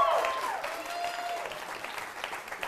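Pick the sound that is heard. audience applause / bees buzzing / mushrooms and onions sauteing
audience applause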